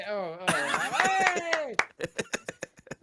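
A brief burst of clapping and laughter breaks out over a voice, then settles into a handful of separate, spaced claps.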